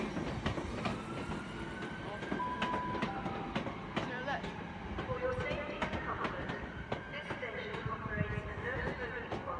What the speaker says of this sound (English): A Northern electric coming into Wigan, and this is terminating here.